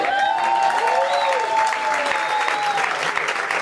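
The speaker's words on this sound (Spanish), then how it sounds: "que recibamos con un fuerte aplauso a nuestro hermano Marcus Johnson" An audience at a church class applauds steadily and loudly, a dense wash of clapping that holds for several seconds.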